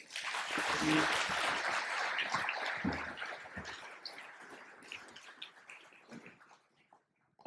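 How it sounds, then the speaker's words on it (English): An audience applauds at the end of a talk on establishing Taumata and incorporating Te Ao Māori, a moderate wash of clapping that swells early and gradually thins and fades. "Round of applause, ladies and gentlemen."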